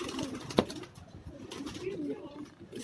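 Red-eyed pigeons on a city rooftop in Karachi give soft, low cooing throughout, with one sharp click near the start and faint murmuring in the background.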